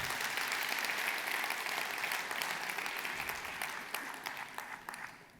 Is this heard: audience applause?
yes